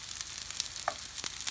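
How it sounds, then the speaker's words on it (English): Keftedes, Greek meatballs, sizzle in a frying pan with a steady hiss and small crackling pops, close and continuous. "merrily sizzling"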